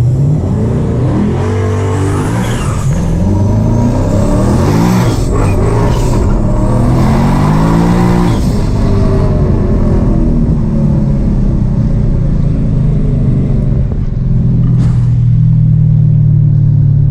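Two high-powered muscle cars, a fully built Shelby GT500 and a twin turbo Dodge Hellcat, race hard through corners, their engines roaring loudly and steadily, with rising and falling revs as they accelerate out of each bend.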